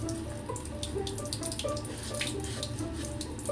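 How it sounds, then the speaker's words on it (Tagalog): A kitchen tap runs steadily into a sink during dishwashing, a continuous close splashing hiss with small clinks and drips mixed in. "Can you turn off the water po?"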